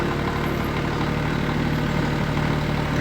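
A Kioti CS2210 compact tractor idling high at about 1500 RPM, its diesel engine a steady, loud, close drone with no change in pace and no voices.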